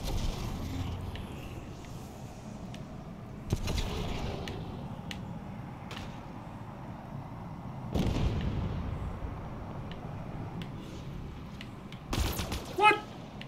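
A tank firing in Halo Infinite on an arcade Forge map, muffled booms and bursts of gunfire spread across a steady battle din, with a few sharper blasts near the end.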